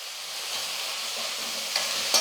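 Tomatoes and drumstick pieces sautéing in a pan, a constant close hiss of sizzling with light stirring scrapes and a couple of sharper clinks near the end, with no voices.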